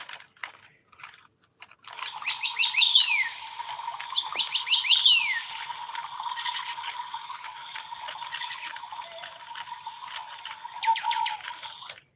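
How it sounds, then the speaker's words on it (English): A pet bird chirps indoors in quick repeated trills and sweeping whistles, with bursts clustered early and again near the end, over a faint steady hum and light tapping. "I had this really cool bird."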